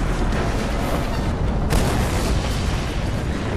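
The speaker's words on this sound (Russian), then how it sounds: "Эпичный взрыв. Рушится весь лагерь." A loud, sustained explosion in the Mad Max video game roars and rumbles for several seconds as a camp collapses, with a sharp secondary burst partway through and no speech.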